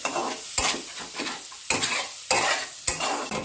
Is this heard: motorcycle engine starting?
no